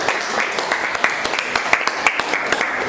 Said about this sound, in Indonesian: tepuk tangan untuk kelompok 4.